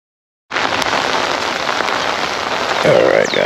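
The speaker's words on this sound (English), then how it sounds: "Alright guys, it's raining." Heavy rain during a thunderstorm starts suddenly and pours down steadily as a loud, dense hiss of drops on surfaces close by, continuing without talk.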